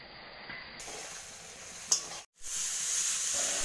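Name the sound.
spices with chili powder and water sautéing in pan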